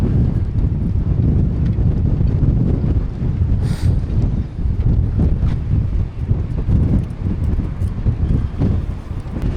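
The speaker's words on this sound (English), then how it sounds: "Because there is a lot of wind here." Strong wind buffets the microphone in the Scottish Highlands, a steady loud roaring rumble with gusts rising and falling throughout, alone with no talk.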